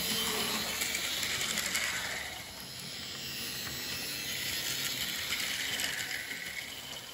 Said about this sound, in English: that is a very quiet and nice running Tri-Ang motor